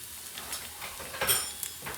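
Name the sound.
chili and garlic frying in hot ghee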